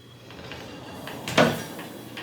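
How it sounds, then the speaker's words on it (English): A sliding barn-style bathroom door with a large mirror, in a Disney's Copper Creek Villas deluxe studio, rolls along its track with a brief soft rumble and a single louder thud near the end. "there is this huge mirror on the bathroom entryway door, and it is a barn style door"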